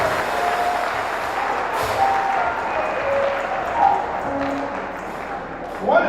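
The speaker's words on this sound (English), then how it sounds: "Let's clap for Jesus for that." A church congregation bursts into sustained applause, a dense crowd clapping close and loud for several seconds with a few voices and scattered exclamations mixed in.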